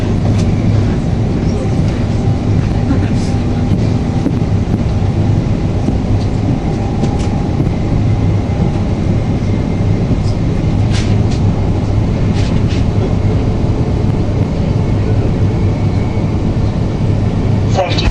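Inside a moving passenger train on a trip around Manchester, a loud, constant low rumble and hum of the carriage with faint rattles and clicks throughout, under talk.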